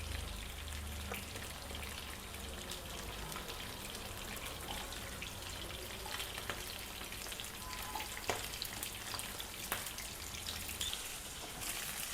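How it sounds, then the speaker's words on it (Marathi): Onion sizzling in hot oil over already fried garlic gives a steady, faint crackle and hiss with scattered small pops, continuous and without talk. "लसूण तळून झालाय, कांदा टाकून घेऊ त्यात।"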